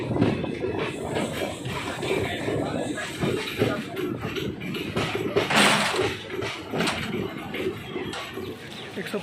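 An Indian intercity express running from Delhi toward Fazilka, heard from inside a general class coach: continuous rattling rail noise and wheel clatter, with people talking throughout over the moving train.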